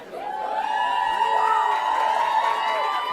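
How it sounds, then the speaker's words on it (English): An awards-ceremony audience cheers and whoops loudly and steadily, a dense crowd roar with high shouts sustained throughout. "Don't cheer for me, I'm just the MC."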